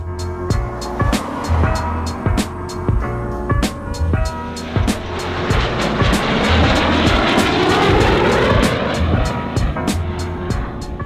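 Fighter jets roar past overhead, a loud, sustained engine drone that swells into a broad rushing peak midway and then holds, with rhythmic pulsing throughout.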